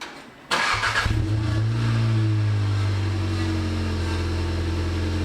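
A Golf GTI TCR engine cranks and fires with a sharp burst, then settles into a loud, steady idle with a deep exhaust rumble, close and alone, no voices.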